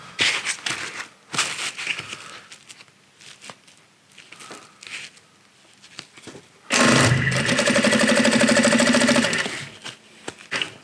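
A sewing machine stitches back and forth to form bar tacks on a low-profile plate carrier, a sustained loud mechanical whir near the end, after a stretch of quieter handling rustles and clicks.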